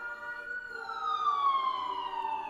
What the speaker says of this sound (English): Hear it? That's a normal siren.